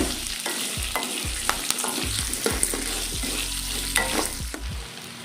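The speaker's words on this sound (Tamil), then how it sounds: "இது நல்லா ஃப்ரை ஆகட்டும்." Onions with salt and curry leaves frying for onion chutney, a steady close sizzle broken by repeated scraping stirs and low clanks of a spoon against the pan, with no voices.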